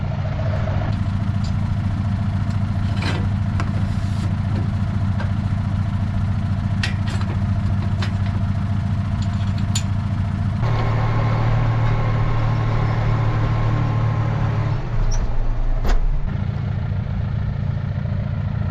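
A tractor on small tyres labours as it pulls a homemade tine seeder along a ridge, a steady mid-pitched engine drone that strains and shifts partway through, close and continuous with no talking.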